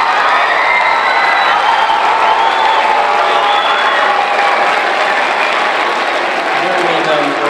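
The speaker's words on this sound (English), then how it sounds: "How about one more big round of applause for Academic All-Stars this evening?" An audience at an Academic All-Stars awards evening gives a big, sustained round of applause, loud dense clapping with some cheering throughout.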